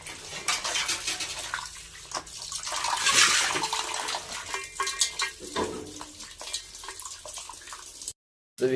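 Crabs being washed in water before cooking, with splashing, sloshing and clattering against a vessel in irregular bursts, fairly close, then a brief cut to silence near the end; no talking.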